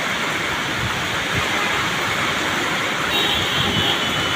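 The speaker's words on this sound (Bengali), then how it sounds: "প্রচুর পরিমাণে বৃষ্টি শুরু হয়ে গেছে" Heavy rain pours down at a metro rail station, a dense, loud, unbroken roar of hiss that holds steady throughout with no talking.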